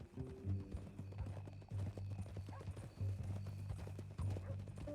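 A horse walks with a steady rhythmic clip-clop of hooves, moderately close, under faint talk and some background ambience.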